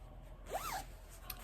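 A baby blue zipper on a knitted bag, lined in green, gives one short rising-and-falling zip, close and quiet, over a hushed background.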